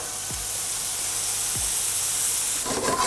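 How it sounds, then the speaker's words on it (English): Scrambled tofu hisses and steams in a hot pan as almond milk goes in, a constant close sizzle with two soft low thumps and a brief burst of stirring scrape near the end. "To the tofu, I'm going to add 1/4 cup of just almond milk"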